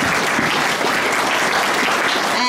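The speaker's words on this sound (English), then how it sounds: "a big round of applause for all our candidates" An audience at a council election candidates' evening applauds the candidates, a steady, loud and dense wash of clapping that holds for the whole stretch with no pauses.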